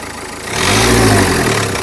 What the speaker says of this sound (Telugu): ఇంజన్ యొక్క నాయిస్ చాలా అంటే చాలా సైలెంట్గా అయితే ఉందండి